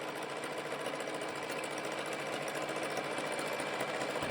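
A serger overlock machine runs steadily while sewing the seams of a pair of shorts, a close, fast, even mechanical whir that holds throughout without pause.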